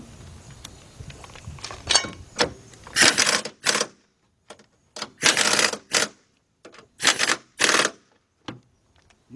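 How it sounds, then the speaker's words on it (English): Three 13mm nuts being tightened on the front strut of a 2008 Ford Fusion, heard as quick bursts of ratcheting that come in short clustered runs with pauses between them, close and fairly loud, with no talking. "Let's go ahead and tighten these nuts up."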